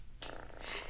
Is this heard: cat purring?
yes